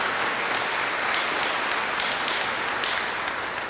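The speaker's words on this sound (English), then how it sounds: "I give him a round of applause for that." Audience applause at a high school academic banquet, a steady dense burst of clapping from a roomful of people lasting a few seconds.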